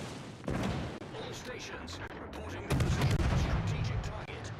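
Tank guns fire in a tank game replay, heavy booming shots against a constant rumbling battle background that grows louder toward the end, with voices talking over it.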